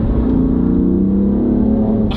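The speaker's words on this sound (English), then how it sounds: "so a lot of the noise you're hearing is fake engine noises" A loud, sustained engine roar at steady high revs from an F80 BMW M3, smooth and droning with synthesized engine sound, close and continuous for a couple of seconds.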